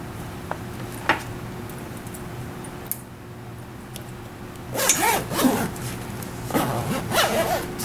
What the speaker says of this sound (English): Okay, then we can close the backrest pad zipper.